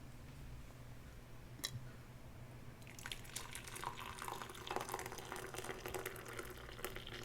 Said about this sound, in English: Pour our water here.